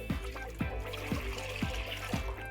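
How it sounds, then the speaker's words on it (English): Milk poured straight into a pan, a quiet steady liquid trickle with a soft rhythmic pulsing glug about twice a second, close and alone. "I'm just going to reserve 200 ml of the milk for the custard later, and the rest of the milk straight into the pan."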